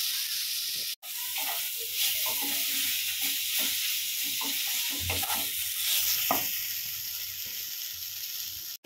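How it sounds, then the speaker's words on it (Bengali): Mustard and fenugreek greens fried with eggplant and stirred in a pan: a continuous hiss of sizzling oil runs under soft, irregular scraping and tossing strokes, close by and with no talking. "এর মধ্যে আমরা মিশিয়ে দেব আগে থেকে ভেজে রাখা বেগুন দিয়ে খুব ভালো করে নাড়াচাড়া করতে হবে"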